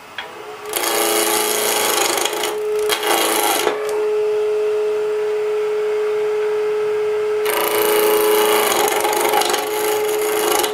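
A skew chisel takes a peeling cut on spinning wood on a lathe: loud, close shaving bursts over a steady motor hum, with short breaks between passes.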